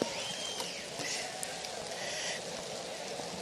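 Heavy rain falls on an outdoor gathering, a dense, steady hiss of drops filling the scene at constant loudness, with faint voices mixed underneath.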